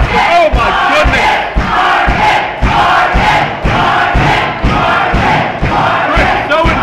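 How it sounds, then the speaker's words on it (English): Loud professional wrestling crowd at a no-disqualification indie match, chanting in a steady rhythmic pattern with repeated surges to rally a wrestler, the crowd noise filling the whole stretch. "The crowd trying to rally Marcus Kross."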